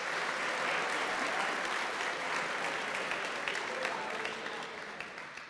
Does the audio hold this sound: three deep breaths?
no